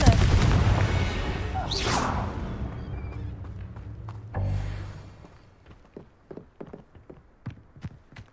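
Blasting spell bursts in the Hogwarts Legacy video game: a loud roaring explosion with rumbling debris, then a second heavy boom fading into scattered crackles and thuds.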